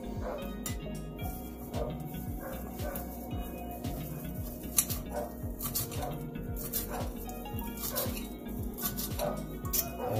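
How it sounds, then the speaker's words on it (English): Dogs bark and yip at neighbor dogs in the background of a kitchen, a continuous flurry of faint-to-moderate barks lasting throughout, mixed with clattering and a low hum. "what you're hearing in the background there is my dogs creating World War III"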